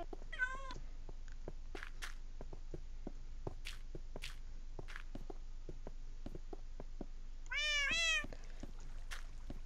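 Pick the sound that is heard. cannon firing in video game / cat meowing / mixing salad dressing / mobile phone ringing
cat meowing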